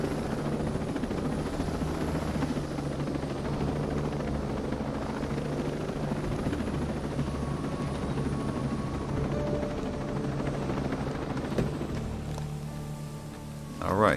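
Helicopter rotor and engine drone in the game Ghost Recon Breakpoint, a steady continuous whir held throughout as the aircraft comes in to land near an occupied helipad, with a brief knock near the end.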